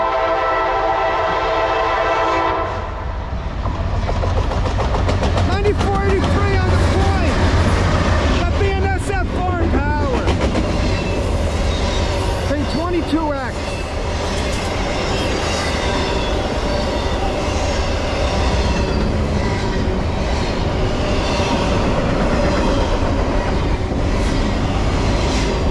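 Freight train hauled by foreign locomotives on the Lehigh/Conrail line in New Jersey, opening with a horn blast, then a loud, continuous rumble and clatter of wagons passing close by, with people talking over it.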